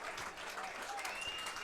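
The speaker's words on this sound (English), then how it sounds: "Let's give both these teams a nice round of applause." A crowd at a junior state Class B baseball game applauds both teams after the final out: steady, faint, distant clapping throughout, with an announcer's voice mixed in.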